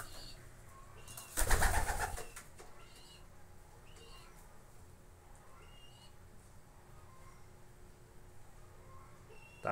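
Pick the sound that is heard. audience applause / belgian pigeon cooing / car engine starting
belgian pigeon cooing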